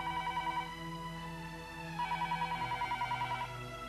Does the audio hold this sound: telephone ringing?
yes